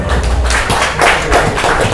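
Clapping in a madrasah open exam hall, a short burst of hand claps from a small group with uneven rhythm, fairly loud and close.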